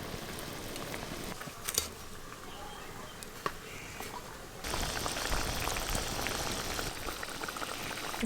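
Curry gravy with chopped tomato, salt and water boils steadily in a pot, a dense bubbling hiss that swells louder partway through, with a couple of sharp clinks.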